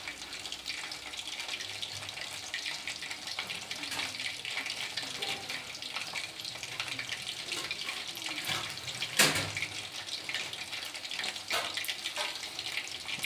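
Chicken pakodi sizzle and crackle as they fry in hot oil on low heat, a steady dense frying hiss that runs throughout with a brief louder pop partway.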